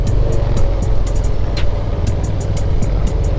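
A steady engine drone from a Yamaha Aerox scooter on the move, with a low grinding rumble and faint repeated ticking running through it, no voices.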